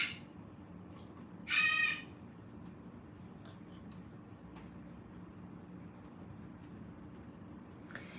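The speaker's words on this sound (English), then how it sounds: "She is a beautiful macaw." A macaw parrot gives a single short, harsh squawk, fairly near, over quiet room noise with faint ticks and no talk.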